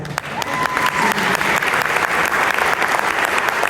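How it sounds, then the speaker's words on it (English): Sustained audience applause at a Hispanic Heritage Month event in Jersey City, dense and steady clapping throughout with a faint tone near the start. "We can applaud to that."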